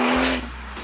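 A tuned 997.1 Porsche 911 Turbo with a 2.5-inch Klein exhaust and six-speed gearbox roars past close by in a short loud burst, its engine note dropping into a lower steady drone.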